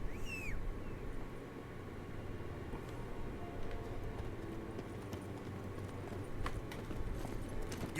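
A horse gallops in The Witcher 3 on PS5, its rapid clip-clopping hoofbeats rolling along at a moderate distance over a soft ambient game backdrop, with no talking.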